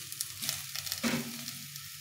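Tomato goes into a pan of frying vegetables with cauliflower, a soft sizzle rising into a brief louder burst as it lands, then settling into quieter frying with faint stirring clicks.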